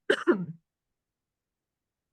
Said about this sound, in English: I'm sorry, I've got this awful cough.